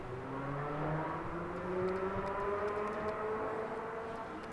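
A motorcycle passes on the road as a storm approaches, its engine droning with rising and falling pitch for several seconds at moderate loudness, heard alone without talk.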